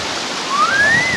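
Waterfall cascading over rocks at San Agustín Ahuehuetla, a steady loud rush of water with a brief rising whistle-like tone over it.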